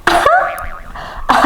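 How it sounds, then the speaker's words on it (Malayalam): A person coughs sharply at the start and again at the end, with a strained, wavering throaty vocal sound between the two coughs, all close and loud. "ചുമ."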